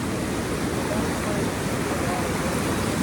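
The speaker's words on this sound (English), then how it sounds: "the sound of running water and waterfalls" Running water and small waterfalls of an Appalachian trout creek make a continuous loud broadband rush, steady and close throughout with no breaks.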